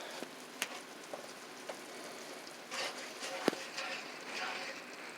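Taco meat sizzles and crackles in a pan on a stovetop burner turned up high, a fairly quiet steady hiss broken by a few sharp pops and soft stirring bursts, with no talk over it.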